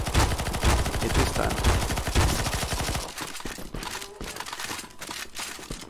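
Rapid automatic gunfire in Counter-Strike: Global Offensive, Zombie Escape mod, on a stalker-themed map. It sounds as dense, continuous machine-gun fire for about three seconds, then quieter scattered shots, with a brief spoken line over it.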